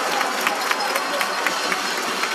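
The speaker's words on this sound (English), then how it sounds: "And she get the applaud from the fans" Crowd of fans applauding a long shot at a women's international football match, Ghana versus Egypt, a steady wash of clapping and stadium noise heard from a distance, with no clear voices.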